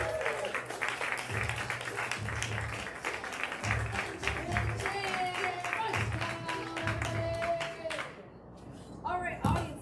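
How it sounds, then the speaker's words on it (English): A comedy show audience applauds after a stand-up set, crowd clapping mixed with cheers and a host's voice over it, rising and falling before thinning out near the end. "Give your applause, everybody."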